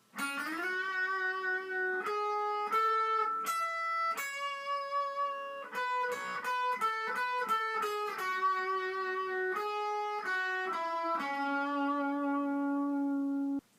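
Guitar playing a battle theme from Pokemon Omega Ruby and Alpha Sapphire, a clean sustained melody of single notes in quick, steady phrases, close and alone.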